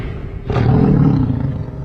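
A T-Rex roar from the horror comedy Zombeavers, a single deep, rumbling bellow that swells suddenly about halfway through and holds loud and close for over a second before fading.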